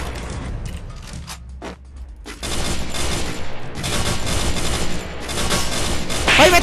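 Dense gunfire from a gun in the mobile battle-royale game Free Fire, loud bursts of rapid shots sustained across the whole stretch with brief gaps, alone without talk.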